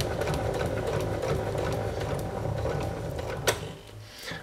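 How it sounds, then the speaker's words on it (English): A sewing machine stitching fabric in reverse with the presser foot down while a drawstring bag is made, a steady close mechanical whirring hum with a small click near the end. "So we bring the presser foot down, holding the reverse lever,"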